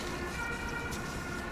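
An ambulance siren wails steadily from a distance on a road near a creek, a continuous tone over low traffic rumble, with no talk.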